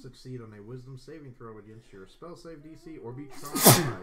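A single sharp sneeze bursts out near the end, right after a stretch of steady talking during a tabletop role-playing game session.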